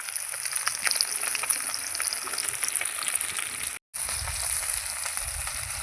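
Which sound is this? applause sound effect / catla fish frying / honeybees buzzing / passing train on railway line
catla fish frying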